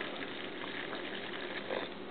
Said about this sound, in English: You add your water, okay?